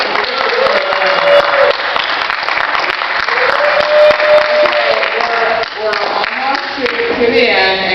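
Audience members clap during public comment at a county board of supervisors meeting. Scattered hand claps crackle throughout, loud and close, while a voice speaks over them.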